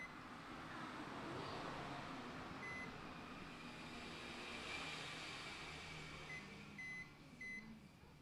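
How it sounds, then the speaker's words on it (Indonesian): Several short, thin electronic beeps from a multimeter's continuity buzzer chirp intermittently over a steady broadband hiss while testing a dead Redmi A2 phone, a few spaced apart and a pair close together near the end. "Di sini saya hanya mendengarkan suara buzzer"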